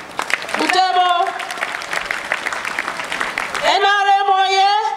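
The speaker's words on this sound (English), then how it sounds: "give a round of applause to our guest" Crowd applause at an outdoor presidential thanksgiving ceremony on a playground in Butebo, a broad wash of clapping mixed with loud, sustained voices calling out over it.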